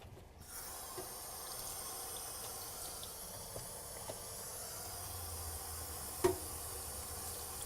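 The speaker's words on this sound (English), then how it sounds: "We're going to wash this knife off real quick." A kitchen knife rinsed under a running tap while cooking noodles, a steady, fairly quiet hiss of flowing water with a few faint clinks and one sharper knock near the end, no voices.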